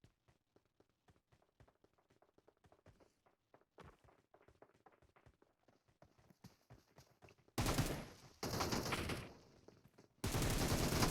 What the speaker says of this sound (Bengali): কই ফায়ার দিল এটা?